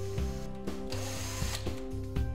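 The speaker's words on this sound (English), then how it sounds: "Pre-drill the 8 holes using your 3/32 inch bit." Power drill pre-drilling eight holes with a 3/32 inch bit into a wooden cabinet floor for a cookware organizer install; a steady whirring motor runs throughout with short bursts of drilling and ratcheting clicks.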